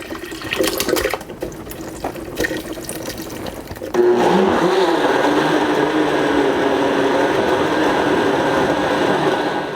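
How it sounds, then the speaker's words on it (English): A blender purées chopped watermelon, its loud, steady whirring starting abruptly partway through and running continuously to the end after some earlier handling noise. "And now we're going to chop this up by putting it in a blender."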